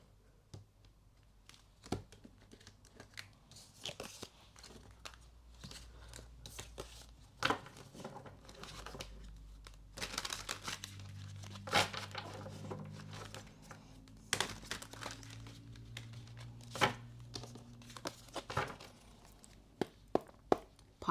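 Tarot cards being shuffled by hand at close range, a run of soft crisp riffles, slaps and papery rustles in irregular bursts with quiet gaps between them.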